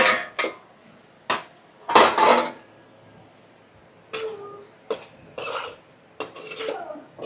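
Metal lid set onto a cooking pot of simmering tomatoes on a kitchen stove, giving a few sharp clanks and clatters spread between short pauses, close and fairly loud with no talk.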